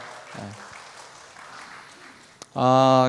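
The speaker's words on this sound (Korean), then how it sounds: "우리 찬양팀과 반주해 주신 김은나래 집사님 박수 한번 부탁합니다." Moderate applause from a church congregation at a Friday worship service, for the worship team and their accompanist, fills the hall. A loud sustained tonal note cuts in near the end.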